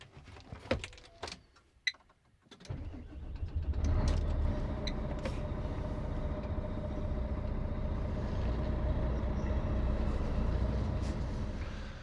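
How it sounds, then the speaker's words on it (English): Lorry tractor unit engine cranking and catching after a few clicks and clunks, then settling into a steady, deep diesel idle that holds close and loud as the truck begins moving forward. "Let's start her up, we'll move her forward"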